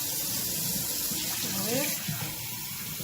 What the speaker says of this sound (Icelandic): slökkt á vatninu! Þú ert að eyða vatnsböðum heimsins!